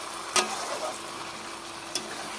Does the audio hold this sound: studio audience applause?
no